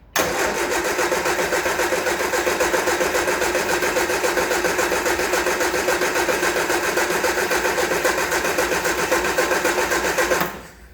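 A Triumph Spitfire engine with suspected bad fuel runs loud and steady, a continuous buzzing drone held close for about ten seconds before cutting off abruptly, with no talking over it.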